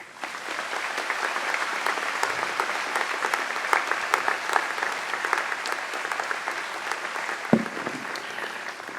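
Sustained audience applause at a college freshman convocation, welcoming a speaker to the stage; steady dense clapping from a large crowd throughout, with no talking over it.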